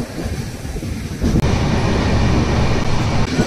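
A Vizag to Araku Valley train with a Vistadome glass coach runs along the track, loud rumbling clatter that swells after a short moment and stays steady, heard from inside without talk.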